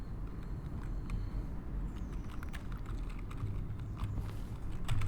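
Keyboard typing in the video game The Stanley Parable: a few faint, sparse keystrokes over a low, steady hum, quiet throughout.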